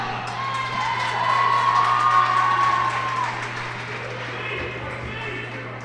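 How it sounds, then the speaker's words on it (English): Fans at a high school girls basketball game roar loudly for both teams in a gym, a sustained crowd cheer with a shrill whistle-like tone rising above it, while a commentator's voice sits underneath. "Crowd is very loud right now, cheering both sides."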